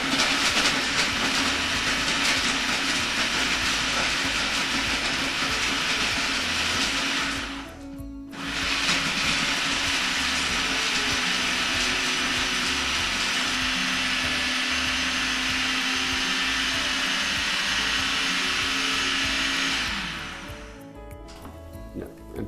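A blender runs loud and steady while processing frozen banana into vegan ice cream. Its whirring roar stops briefly near the middle and then starts again before dropping off at the end.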